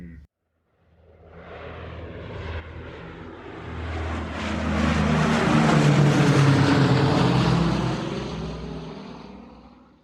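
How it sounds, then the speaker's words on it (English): A passenger airplane's engines on a flight to Melbourne make a broad, loud roar that builds steadily, holds at full power for several seconds and then starts to fade. "we're now going back onto the plane to Melbourne"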